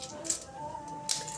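Coins from an opened bamboo piggy bank clinking and rattling, a few faint metallic taps over a quiet background.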